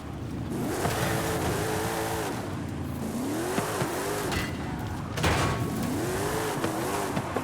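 A car in Forza Horizon 5 revving hard and sliding into e-brake drifts, engine pitch sweeping up and down repeatedly with tire squeal, loud and close with no talk.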